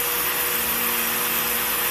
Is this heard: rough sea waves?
no